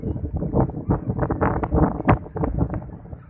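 Wind gusting over a microphone outdoors on an Algerian beach, a steady buffeting rumble with irregular louder gusts throughout, close and fairly loud, no voices.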